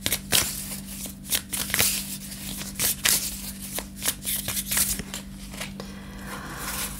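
An oracle card deck is shuffled by hand in a series of quick, close riffling and slapping bursts at an irregular rhythm, with short pauses between them and a faint low hum beneath.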